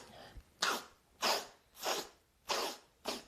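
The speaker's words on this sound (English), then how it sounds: "sniff the oil up." A person sniffs nasal oil up the nose during a nasal oiling routine, making five sharp, breathy sniffs in a steady rhythm, close and fairly loud, with no talking.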